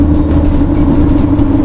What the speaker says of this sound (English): Traffic's loud. Our tires are loud